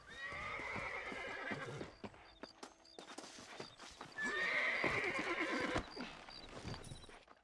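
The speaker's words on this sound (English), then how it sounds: "Let's get back on the horses and see what else is going on." Horses in the video game Red Dead Redemption whinny and neigh loudly over steady clip-clopping hooves, with a second burst of neighing midway and no talking.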